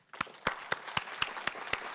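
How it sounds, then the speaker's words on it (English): A city audience at a State of the City address claps in a sparse, steady rhythm of distinct hand claps, roughly four per second, fairly close and clear without talk. "Please join me in a strong round of applause"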